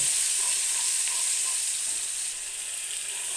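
Sponge gourd paste fries in hot oil with a loud, continuous hiss and crackle that holds steady and eases off slightly toward the end, heard alone without voices.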